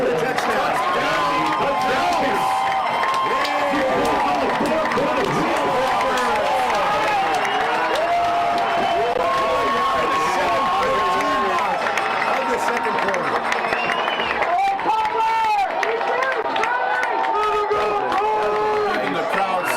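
Stands at a Hampshire high school football game roar with a sustained, loud crowd cheer for the full stretch, many voices blending into a dense wall of noise with scattered shouts.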